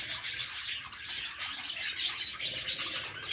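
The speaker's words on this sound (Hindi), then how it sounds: "स्मॉल बर्ड आपको यहाँ देखने को मिलेंगे" Small birds chirp busily at Kanan Pendari zoo, a dense, continuous wash of high twitters and tweets from many birds at once, with no talk.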